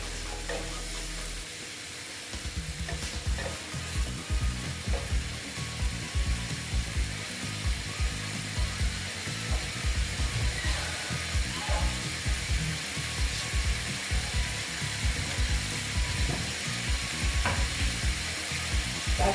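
Pumpkin curry with tomatoes sautéing in a pan, a loud, steady sizzle with rapid, repeated scraping of a spatula against the pan, close and continuous for the whole stretch.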